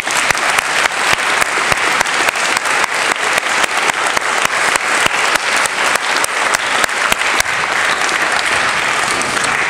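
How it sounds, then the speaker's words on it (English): Loud, sustained applause from an audience at a Stanstead College fall athletic assembly. Many hands clap in a dense, rhythmic patter, with sharp individual claps standing out, and the clapping continues steadily throughout. "So, a big round of applause to all those people I just mentioned"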